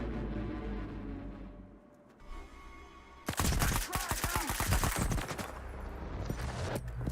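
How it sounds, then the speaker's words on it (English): Rapid bursts of automatic gunfire erupt in a close, loud firefight in the video game Stalker 2, following a quieter stretch of ambient game noise. "the firefight happening right in front of them"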